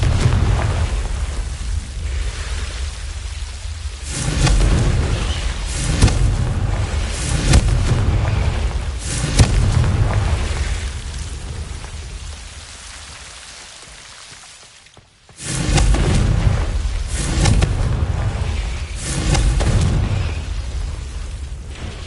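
Confringo blasting spells explode in Hogwarts Legacy, rolling booms and crackling debris in repeated waves over a dense rumble, with a short near-silent gap before another blast.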